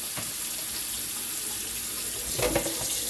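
Water runs from a kitchen tap over a colander dating from the 1980s in the sink, a steady broadband rush with a brief louder splash near the end as the water hits the metal.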